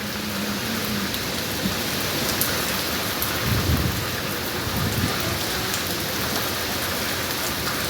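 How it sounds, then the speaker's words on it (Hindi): Heavy rain pours down in a dense, steady hiss, with a low rumble of thunder rolling beneath it midway through. "इतनी तेज बारिश हो रही माशाल्लाह"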